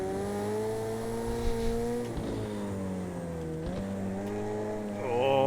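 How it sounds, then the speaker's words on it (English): A road car in Project CARS 2 downshifts while turning into a corner, its steady engine drone dipping and re-rising in pitch with quick blips as gears drop, faint tire noise beneath. "There was that downshift as I was turning in"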